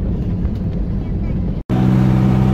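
Loud, steady engine drone of a passenger ferry underway between Hulhumalé and Malé in the Maldives, with a low rumble and hum throughout and a brief dropout near the end.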